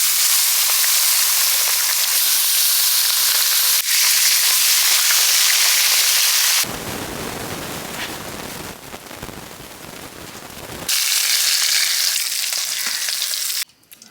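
Salted, turmeric-coated local tilapia fish frying in hot oil, a loud steady sizzle with a rougher, noisier crackling burst in the middle before the even hiss returns and cuts off near the end.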